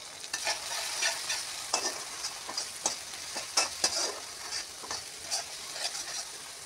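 Potatoes and long beans fry with whole green chillies, salt and spices in hot oil, giving a steady crackling sizzle broken by repeated scrapes and clinks of stirring, close and fairly loud throughout.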